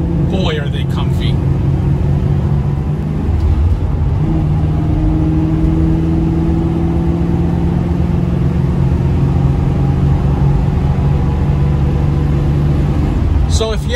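A 1977 Pontiac Trans Am SE400 drones steadily on the road, its engine holding an even, smooth hum while driving, with someone talking over it.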